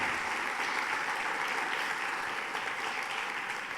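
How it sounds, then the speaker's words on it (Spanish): A church congregation bursts into steady, dense applause during a Spanish-language service, many hands clapping evenly throughout with no voices on top. "Yo le daría un aplauso al Señor por eso"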